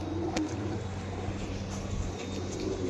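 Pigeons, white show birds of the kept flock, coo softly in a low continuous murmur under a steady background hum, with a brief sharper tap near the start.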